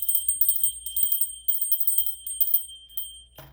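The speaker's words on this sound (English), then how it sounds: "Hope that bell's not too obnoxious." A small hand bell rings over and over to clear the air, a fast, bright, steady jingling that lasts about three seconds and then stops sharply.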